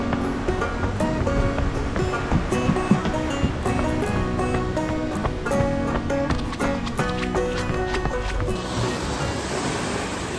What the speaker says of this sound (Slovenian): pogledajte te valove